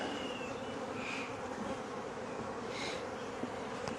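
Honeybees droning steadily at an open hive one week after a colony split, a dense continuous buzz with louder swells as individual bees pass close by.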